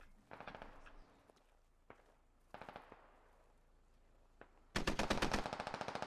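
Squad video game gunfire, bursts of distant automatic fire and isolated shots, then a loud, near, rapid machine-gun burst at the end.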